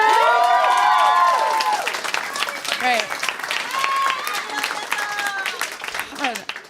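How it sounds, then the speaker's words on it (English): Podcast hosts clap and whoop in a burst of cheering for Cordelia, the Buffy the Vampire Slayer character. Loud at first, the applause tapers to scattered claps and excited voices, and someone speaks briefly. "when you all just clapped for Cordelia"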